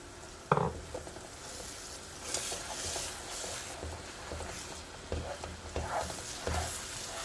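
Eggs are stirred into a dal tikki mixture frying in a pan, a steady close sizzle with soft scraping strokes rising and falling throughout.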